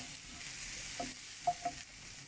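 Garlic and chilies sizzle in a pan for seafood pasta, a steady close frying hiss with a few brief stirring clinks, and no voices.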